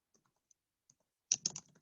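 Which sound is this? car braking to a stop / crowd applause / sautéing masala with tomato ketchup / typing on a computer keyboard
typing on a computer keyboard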